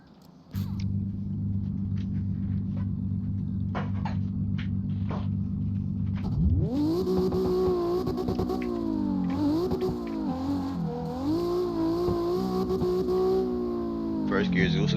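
A 900-horsepower drift car idles with a deep steady burble, then its engine revs hard and climbs through rising and falling pulls, loud and close, with occasional voices underneath.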